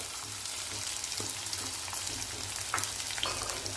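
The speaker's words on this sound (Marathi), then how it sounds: "लसण छान भाजलेलं आहे कांदा टाकून घेऊया" Garlic and onion frying in hot oil in a pan for an urad dal dish, a steady close sizzle with a few light scrapes of stirring and no voices.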